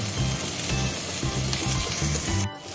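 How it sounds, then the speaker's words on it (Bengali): Yellow and green capsicum frying with salt in a hot pan, a steady loud sizzle broken by rhythmic stirring scrapes, ending in a brief dip. "এর মধ্যে একটু লবণ দিয়ে দিলাম আর এই দুরকম যে ক্যাপসিকাম হলুদ আর গ্রিন এটাও দিয়ে দেবো, দিয়ে ভাজা করে নেব"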